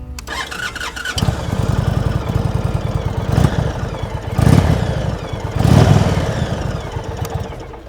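An Indian Roadmaster Dark Horse touring motorcycle's 1800cc V-twin cranks and fires up close by, settling into a loud, lumpy idle with three blips of the throttle swelling the rumble.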